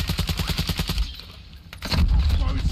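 Rapid automatic gunfire from a Call of Duty match on Ashika Island rattles in a quick burst of close, evenly spaced shots, followed by a heavier low rumble and some faint game noise.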